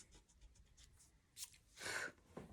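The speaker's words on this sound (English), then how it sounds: "Erase the line of the B." An eraser rubbing out a pencil line on paper, soft scratchy strokes in short bursts with a louder scrubbing patch near the end, faint and close with no talking.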